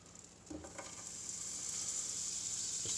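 Butter sizzling in a frying pan with crumpets toasting in it, a soft hiss that swells and grows steadily louder after a couple of brief clatters near the start, with no voices.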